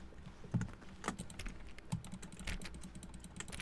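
Keyboard keys click in The Stanley Parable game, in a quiet, irregular run of separate clacks at close range. No voices are present.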